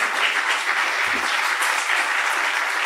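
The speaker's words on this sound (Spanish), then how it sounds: "Pues un fuerte aplauso para Álvaro que toma el escenario." Steady, dense clapping from a coworking demo-day audience, loud and continuous throughout with no pauses.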